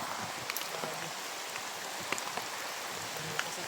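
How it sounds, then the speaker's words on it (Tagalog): Heavy rain pours down steadily, a constant hiss with scattered sharp drop ticks on nearby surfaces and no voices. "Lakas ng ulan."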